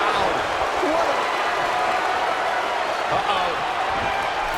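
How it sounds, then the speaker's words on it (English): Arena crowd in the WWE 2K24 wrestling game roaring and cheering continuously, a dense loud wash of noise with a commentary voice running over it. "Listen to this crowd"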